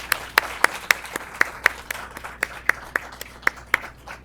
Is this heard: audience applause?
yes